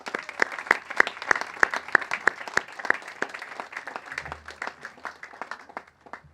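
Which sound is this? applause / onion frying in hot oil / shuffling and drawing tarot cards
applause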